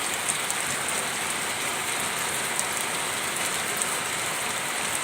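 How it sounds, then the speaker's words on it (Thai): Steady rain falls during the rainy season, a dense even hiss of drops with a few faint ticks on a surface, constant throughout and no voices. "หน้าฝนก็เอาแต่ฝนมาฝากนี่นะคะ"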